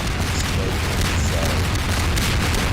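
Dense, loud barrage of explosions and blasts from rockets in a Garry's Mod NPC battle, continuous rumbling booms with no talk.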